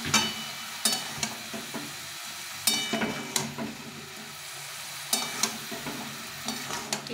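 Cauliflower and mixed vegetable curry being stirred in a pan, with a spoon scraping in repeated bursts over a soft, continuous sizzle. The cooking sounds are close and clear, with no talking.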